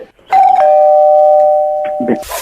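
A doorbell rings once inside a home during a prank, a long sustained two-tone chime that holds for nearly two seconds, with brief voices and shuffling noise just before and after it.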